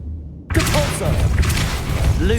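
A Depulso force spell bursts out in Hogwarts Legacy with a sudden loud whoosh after a quieter lead-in, leaving a dense, rumbling magical swirl that lingers for nearly two seconds.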